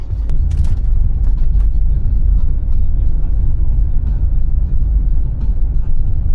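A car labors along a slippery forest track, its engine giving a loud, continuous low rumble with a rough, strained quality. A few sharp knocks and crackles break through the steady drone.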